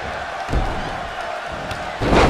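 A wrestling arena crowd at a WWE Divas Championship tournament match roars in a dense, continuous wash, with louder swells and a slam-like burst near the start and end.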